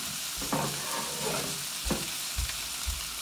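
Onions dropped into hot oil for bhindi sizzle and hiss in a pan, with a few stirring knocks and low thumps punctuating the steady frying noise, close and moderately loud, no talking.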